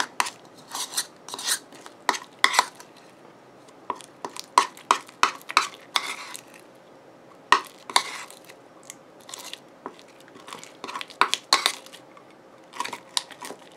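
Homemade slime is stirred in a bowl, producing a string of close, quiet, sticky squelches and clicks in irregular bursts against near silence, with no voices.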